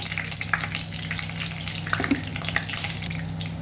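Mustard seeds, about a teaspoon, hit hot oil in a pan while making vada pav, giving a steady close sizzle with small pops and crackles over a low hum.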